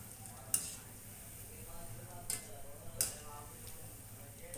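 Shankarpali fry in hot oil while being stirred, a soft steady sizzle broken by three sharp utensil clicks against the pan.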